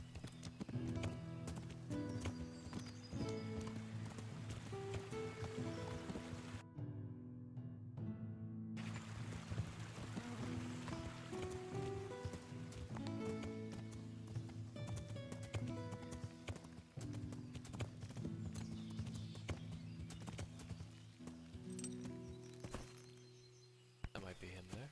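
Steady rhythmic clip-clop of horse hooves in the video game Kingdom Come: Deliverance, under continuous music, with a voice talking over it throughout.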